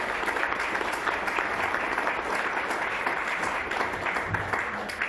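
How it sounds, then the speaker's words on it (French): An audience at a French community council meeting applauds steadily for about five seconds after a vice-president's election, a dense, even wash of clapping with no pause. "je vous propose de l'applaudir"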